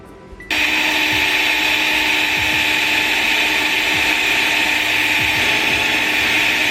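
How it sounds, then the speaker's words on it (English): A power drill with a larger bit enlarges pilot holes during a Honda S2000 side strake install, starting abruptly and then whining loudly and steadily with a faint rhythmic ticking under it. "slowly increase the size of the drill bit and go a little bit bigger"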